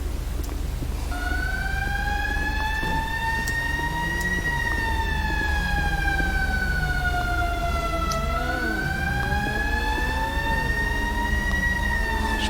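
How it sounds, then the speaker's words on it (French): A fire truck siren from the GTA V game with the LSPDFR police mod, a loud continuous wail that slowly rises and falls over a steady low engine rumble, with no talk. "Fire truck."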